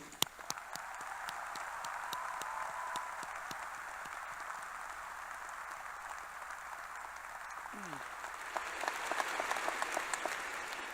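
Commencement crowd at a college graduation applauding first-generation graduates and their families, steady clapping heard from a distance, slightly swelling toward the end, with faint murmurs.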